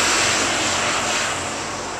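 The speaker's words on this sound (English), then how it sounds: "big tractor going past" Big tractor driving past, a broad engine roar fading gradually as it moves away, with no talk.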